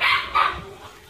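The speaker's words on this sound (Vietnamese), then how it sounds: "Buổi chiều mấy con chó với mấy con heo nó la hơi ồn mọi người" Dogs bark loudly and close by on a rural farm in the afternoon, two sharp barks in quick succession followed by fainter yelps, with no speech over them.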